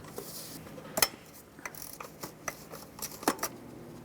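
A ratchet on a deep 10mm socket breaks the knock sensor bolts free on a Chevrolet Express 3500 van: sharp metallic cracks, the loudest near one second and again past three, between rapid ratchet clicks.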